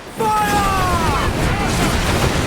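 Cannon fire from a ship in Assassin's Creed Black Flag, a loud booming blast that rolls into a sustained rumbling roar, with a shouted voice rising over the start.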